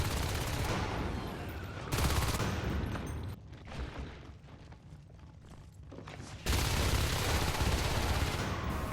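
Sustained automatic gunfire in a competitive video game match, loud and continuous at the start, dropping to a quieter lull with scattered sounds, then resuming as heavy, rapid firing.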